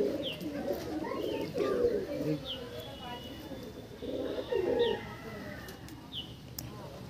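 A pigeon with a red foot-ring and feathered tail coos in soft, repeated bursts close by, mixed with other background birdsong, while a person talks nearby.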